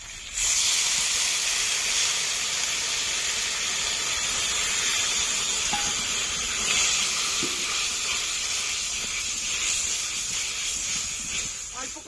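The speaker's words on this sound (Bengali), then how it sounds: "জিরে বাটা শুকনো লঙ্কা বাটা মশলা ধোয়া জল দিয়ে দেবো" Loud, steady sizzle and hiss as water is poured into frying ground cumin and dry red chilli paste with garlic for a cauliflower and egg curry, continuous and close throughout.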